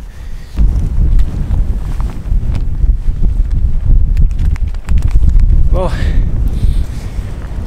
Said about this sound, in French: Commencez à avoir de plus en plus de vent.